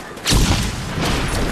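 A flash grenade goes off in Call of Duty: Black Ops with one loud, sudden burst after a brief quiet start, then a sustained ringing wash of noise.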